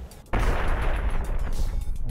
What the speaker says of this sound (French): Je pense qu'il fait une plus grosse explosion que les autres, non?